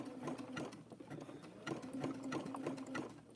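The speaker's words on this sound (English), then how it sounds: "We're stitching over the two pieces here." Electric sewing machine stitching through coiled rope and fabric pieces, its motor whirring in a steady hum with repeated bursts of rapid needle clatter, close and fairly loud.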